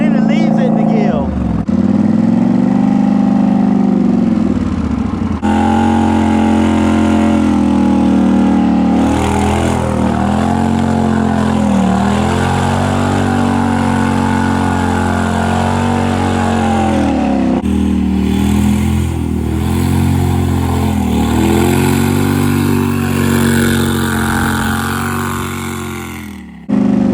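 Polaris Highlifter and Honda Rancher ATVs rev steadily while mudding, a continuous loud engine drone rising and falling in pitch for the whole stretch, with people talking over it.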